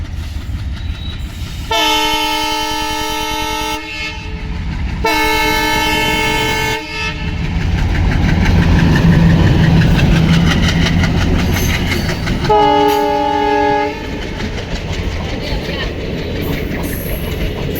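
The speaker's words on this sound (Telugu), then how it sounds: "ప్రజెంట్ మీరు చూస్తున్న Kurnool city Nandyal demo passenger" A DEMU passenger train sounds its horn in loud sustained blasts, two close together and another later, over the rumble of the train pulling away from Kurnool City station.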